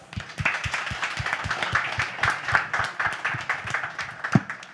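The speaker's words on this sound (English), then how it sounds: "I would like to give the cast and the crew who are sitting around here an enormous round of applause" Steady applause for a film's cast and crew at a press meet, many hands clapping together in a continuous, fairly close wash with distinct sharp claps and a loud burst near the end.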